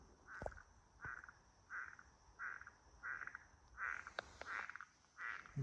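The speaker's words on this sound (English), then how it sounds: "And you got the frogs a chirping." Frogs chirp in a steady series of about eight evenly spaced bursts, moderately near, among cypress trees along the Withlacoochee River, with a faint insect buzz in the background and no talking.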